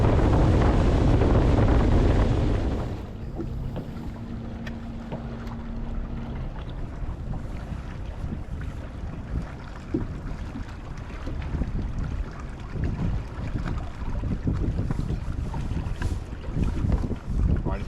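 A fishing boat's motor runs loud and close at first, then a steadier engine drone with wind buffeting and water slapping continues on Smith Mountain Lake in late fall.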